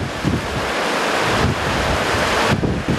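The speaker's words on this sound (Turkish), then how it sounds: "Bu barajdan gelen su bu." Floodwater from the opened gates of Ömerli Dam surging down the overflowing Riva Creek in Beykoz, a loud, continuous roar of rushing water heavily buffeted by wind noise on the microphone, with no voices.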